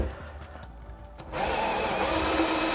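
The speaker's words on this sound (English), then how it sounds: "what I'm using here is called a stepper drill bit, so this will slowly make the hole bigger" A power drill with a stepped drill bit enlarges a hole during a saltwater aquarium frag tank build, starting with quiet handling and then whirring steadily and loudly through the second half.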